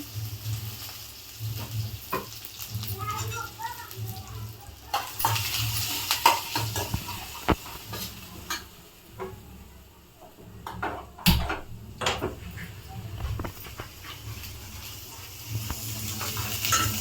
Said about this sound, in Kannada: ಎಣ್ಣೆ ಕಾದ್ಮೇಲೆ ಸಾಸಿವೆ ಜೀರಿಗೆ ಈರುಳ್ಳಿ ಕರಬೇಕು